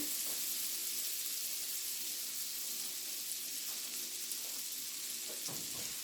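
Four tablespoons of unsalted butter melt in a hot skillet with a soft, even sizzling hiss that holds steady throughout, with a few faint taps and no one speaking.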